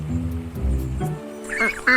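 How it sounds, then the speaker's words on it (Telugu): Cartoonish duck quacks, a few nasal calls near the end, following a stretch of low voiced sound. "అప్పుడే బాతు యొక్క గుంపొచ్చింది."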